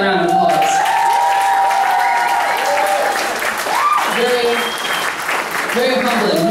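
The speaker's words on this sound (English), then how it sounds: "give the man a round of applause" Audience applause breaks out for a man named Nigel, a steady wash of clapping running beneath a prominent sung or spoken voice that carries over it for most of the stretch.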